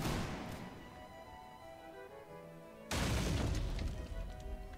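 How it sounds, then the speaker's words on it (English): Napoleonic cannon fire in the war video game L'Aigle, a sudden heavy boom that bursts in midway over a quieter battlefield ambience and rolls on loudly with rumbling after-blasts. "Cannonballs are flying."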